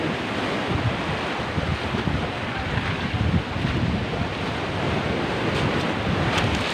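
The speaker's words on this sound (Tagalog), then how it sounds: "Kasi malakas pa ang alon." Strong ocean waves crash and wash continuously along Butas Butas cave beach in Mauban, Quezon, loud and close with steady surf roar and wind buffeting the microphone.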